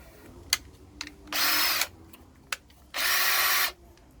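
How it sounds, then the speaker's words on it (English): Pilot drill boring holes for fitting VW jail bars, two short bursts of whirring at close range, each about half a second to a second long, separated by faint clicks and taps. "So now back to my pilot drill."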